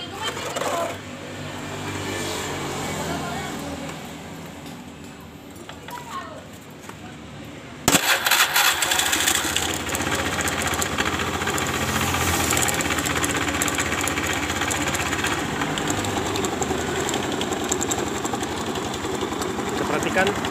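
A Honda Beat FI scooter with a rough, rattling noise from the CVT housing, as if the rear pulley were loose. A quieter stretch gives way to the engine running loud and steady, with continuous mechanical clatter.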